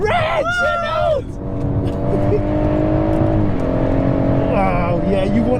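BMW M140i engine pulling hard under heavy acceleration, a loud steady drone with rising harmonics heard from inside the car, with voices chatting over it.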